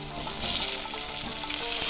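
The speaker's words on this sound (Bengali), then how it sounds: "এই যে কেটে রাখা মিষ্টি কুমড়ো, আলু আগে দিয়ে দেবো আমি তেলের উপরে।" Cut pumpkin and potato pieces fry in hot oil, a dense continuous sizzle held close and steady throughout.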